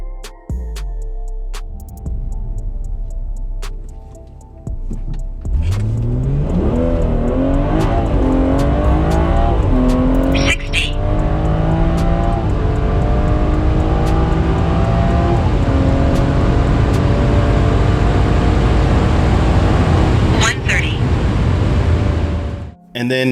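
A BMW F30 340i sedan launching on a street run: the engine idles, then roars loudly from about five seconds as it revs up through the gears, with brief shift breaks, before cutting off near the end.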